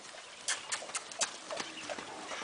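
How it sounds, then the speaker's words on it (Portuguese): A young foal trots, its hooves striking in a quick, even clip-clop rhythm at a moderate distance, each beat crisp against a quiet background. "Ó que trote. Um trote bonito, hein?"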